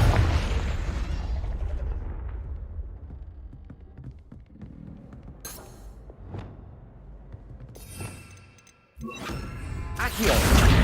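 A Confringo fire spell explosion in the video game Hogwarts Legacy: a loud booming burst that decays into a low rumble, followed by scattered smaller pops and another heavy blast near the end.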